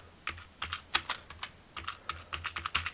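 Typing on a computer keyboard while filling in an online registration form: a quiet, uneven run of clicking keystrokes, sometimes in quick bursts and sometimes with short pauses, close by and with no talk.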